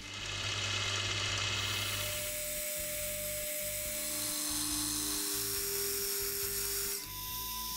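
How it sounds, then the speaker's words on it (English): Steady high-pitched whine of a milling machine spindle spot drilling metal pieces held in a vise, with shifting tones and a grinding edge, loud and continuous. "With the pieces set up in the vise together, I'll spot drill for the through pins"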